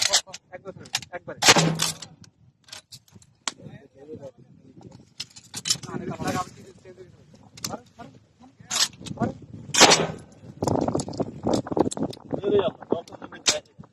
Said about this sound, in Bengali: একবারে ছেড়ে দেবে রাসেল ওকে ফায়ার